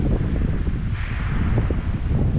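Wind gusts across a beach at night during bass fishing, a loud, rough and continuous rushing that buffets the microphone, with no talking.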